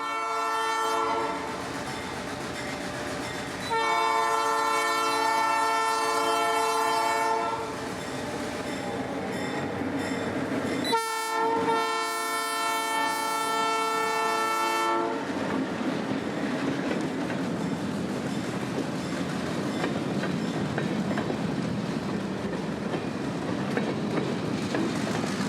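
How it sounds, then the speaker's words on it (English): A Florida Northern Railroad train climbs a hill, with loud sustained horn blasts in several bursts, then rumbling rail and wheel noise as the cars roll steadily past close by. "staring at the train navigating another one of many hills that this line was built upon"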